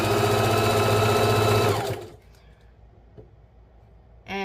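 A sewing machine stitching a pillow runs steadily and loudly with a fast, even mechanical hum for about two seconds, then stops, leaving quiet handling clicks and a brief final burst of stitching.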